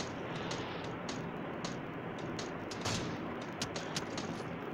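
Gunfire from PUBG Mobile, a shotgun and sniper match: a run of sharp, quick shots breaks through a steady wash of dense battle noise, loud and close throughout.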